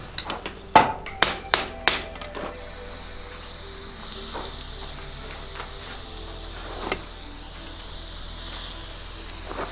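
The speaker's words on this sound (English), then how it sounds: "hold the hot cut yourself and hit it with a hammer" A hammer strikes a hot cut on a forged steel billet four times in quick succession, loud and close, then a steady hiss and a few faint taps follow.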